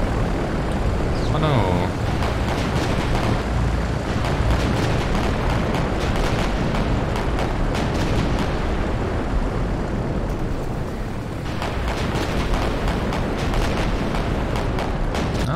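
Torpedo bombers strike warships in the naval strategy game Victory At Sea, producing a continuous loud roar of explosions and aircraft engine noise with dense rumbling bursts throughout, and a voice briefly exclaims over it.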